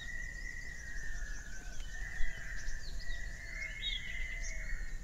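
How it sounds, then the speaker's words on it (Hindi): A common hawk-cuckoo calls in the sanctuary around Patnadevi temple near Chalisgaon. Its faint whistled notes carry over a steady outdoor hum, with a few brief chirps from other birds and no voices. "आवाज पावशा की,"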